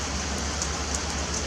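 Rain falls steadily as a dense, even hiss at moderate volume, with a few faint, brighter drips on top.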